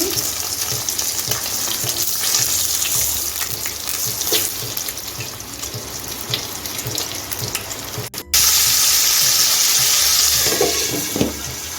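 Aar fish frying in hot oil after being turned to the other side, a steady close crackling sizzle with watery hiss that runs continuously and grows louder near the end, with no talking.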